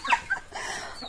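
Household chickens cluck close by, a couple of short sharp calls followed by a drawn-out squawking cry, heard alone without talk.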